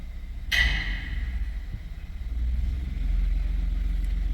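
A car engine idles low and steady, held in gear and brought up gently to about 1,000–1,100 RPM while warming toward operating temperature, with a brief sharp clatter near the start and a slightly heavier hum toward the end.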